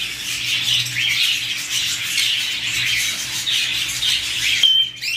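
Two male white Java sparrows call from a cage at a bird market, a dense, continuous chatter of loud squawks and chirps close by, with no talking.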